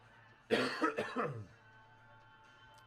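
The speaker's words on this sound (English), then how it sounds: "I apologize if I end up coughing a little bit here." A man coughing during a livestream, with a close, loud burst of three or four harsh coughs in quick succession, then quiet, and the start of another cough at the very end.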